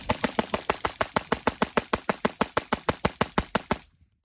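Rifle mag dump through a HuxWrx Flow 36 Ti titanium suppressor: about two dozen rapid suppressed shots in an even, fast rhythm, loud and close, ending abruptly into silence.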